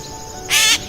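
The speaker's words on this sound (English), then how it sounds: "So, we have a cat bird." A gray catbird gives a single short, loud, harsh call, a burst of under half a second that stands out over a quiet outdoor background.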